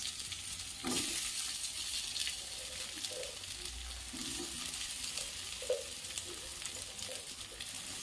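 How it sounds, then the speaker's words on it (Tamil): Ivy gourd is stir-fried in a pan, a steady close sizzle with occasional soft knocks and scrapes of the spoon stirring, fairly quiet and without speech. "இப்போது நம்ம பெஸ்ட் வச்சுருக்க கோவக்காவை போட்டுக்கலாம்."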